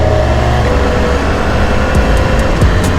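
BMW S1000R 2019 motorcycle engine running steadily, a continuous broadband roar with low rumble close by, no talking.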